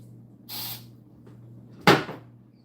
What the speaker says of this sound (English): I'm gonna literally spray a bunch of bug spray in my beer